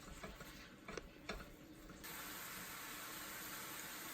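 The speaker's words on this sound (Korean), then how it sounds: "씻어놓은 양배추를 넣는 걸 깜빡했어요. 지금이라도 넣고 같이 볶아줍니다." Cabbage stir-fried with vegan yaki udon in a pan: a few scraping stirs over soft sizzling, then a steady, louder hiss of frying takes over and continues evenly to the end.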